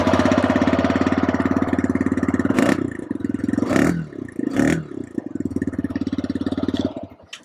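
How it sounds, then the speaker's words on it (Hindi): Idling 125cc motorcycle exhaust, a Pulsar NS 125 or TVS Raider, puttering steadily up close with a few sharp throttle blips and revs before settling back to idle and cutting off. "यहाँ पर आपको मैं इसका साइलेंसर का नोट भी करा देता हूँ,"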